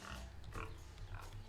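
Brief low grunts from a boar in the jungle of the Tales of Monkey Island video game, quiet and rough over a busy ambient background.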